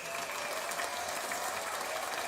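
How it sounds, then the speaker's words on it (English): Audience applause in a continuous, even wash of dense clapping, steady and fairly faint throughout the short stretch. "let's get a round of applause"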